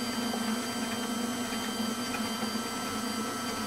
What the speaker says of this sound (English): So, Grandma's using her new mixer for Christmas Eve cookies.